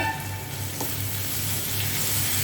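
Steady, close sizzling of green chili, ginger and garlic paste frying with eggplant in hot oil, continuous throughout with no speech.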